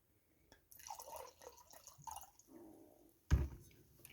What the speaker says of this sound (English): Let's pour a little bit more in there.